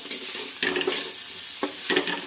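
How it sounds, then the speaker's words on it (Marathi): A spoon stirs fasting khichdi with potatoes as it sautés in a pan, with a constant close sizzle and a few distinct scraping strokes against the pan. "तर आपण इकडे खिचडी परतायला टाकली म्हणजे बटाटे परतू राहिले"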